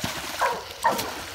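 A dog gives two short, high whimpering yips about half a second apart against a steady outdoor background hiss.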